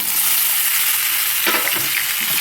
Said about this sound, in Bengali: ঝিঙেটাকে দিয়েও ভালো মতো আমি কষিয়ে নেব